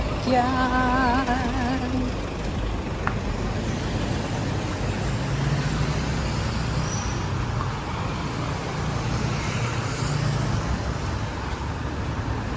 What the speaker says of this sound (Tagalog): May sasakyan.